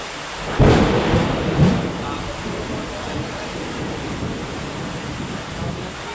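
A thunderstorm with rain: a sharp thunder crack and a second rumble rise over a constant wash of rainfall and wind noise, loud and close, with no distinct talk.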